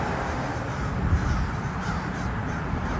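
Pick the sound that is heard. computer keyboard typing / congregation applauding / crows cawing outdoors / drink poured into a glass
crows cawing outdoors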